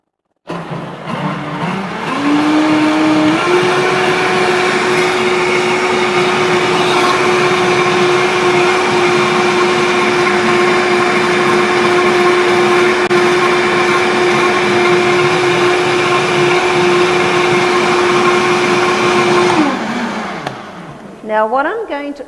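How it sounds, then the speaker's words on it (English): A blender runs steadily for about twenty seconds, whizzing vegetarian ingredients and two stock cubes into a creamy mixture: a loud, sustained motor whine that rises in pitch as it spins up, holds level, then cuts off and winds down. "I'm going to go and whiz this up in a blender until it becomes creamy in consistency"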